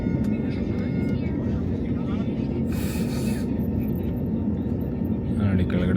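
A steady, loud broadband roar of an Airbus A320 airliner fills the cabin throughout, with faint muffled voices beneath the engine hum.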